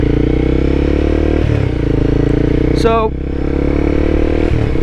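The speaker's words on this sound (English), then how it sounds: "just focus on keeping good throttle control when you're rev matching" A motorcycle engine hums steadily close by as the rider shifts down with a rev match, with a quick rise and fall in revs and a short whine partway through, while someone talks over it.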